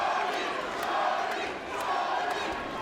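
A boxing crowd at a live fight roars steadily, a dense wash of cheering and shouting that swells and dips over a few seconds without clear individual voices.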